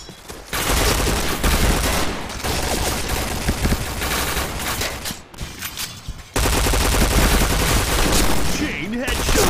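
Rapid automatic P90 gunfire in the Point Blank shooter game, dense sustained bursts filling most of the stretch with a brief lull midway, loud and close with faint game voice callouts mixed in.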